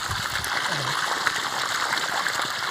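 Water gushes steadily from a 2.25-inch pipe fed by a 3 HP solar borewell pump in bright sun, a constant rushing splash with a voice briefly audible over it.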